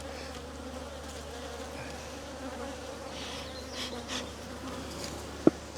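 Honey bees buzz continuously around an open backyard hive, a soft, steady hum with individual bees droning closer in brief swells, plus a sharp click near the end.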